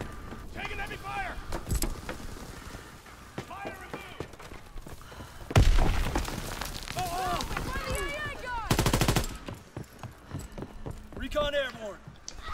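Call of Duty WWII gameplay with bursts of gunfire and explosions, mixed with game voice callouts and a player talking over the action.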